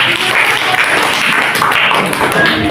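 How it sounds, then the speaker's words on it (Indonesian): Classroom of students clapping together in sustained, dense applause, loud and close, with no talk over it. "Oke, tepuk tangan dong."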